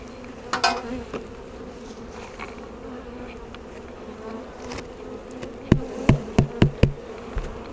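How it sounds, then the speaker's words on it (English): Honeybees hum in a continuous low drone close by at a hive being split, with a run of sharp knocks and taps near the end cutting through the buzzing. "There are a few more bees."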